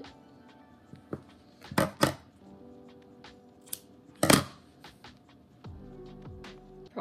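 Scissors snip through punch needle yarn on a beginner's rug project, a few sharp close cuts near the two-second mark and again around four seconds, over quiet handling noise.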